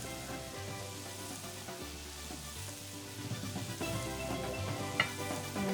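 Bread fries mayo side down in a pan with a low, steady sizzle under quiet background music, and a faint clink of a utensil near the end.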